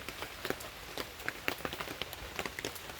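Light drizzle mixed with big heavy raindrops falling outdoors, scattered sharp taps and splats over a soft steady patter, fairly faint and irregular, with no talking.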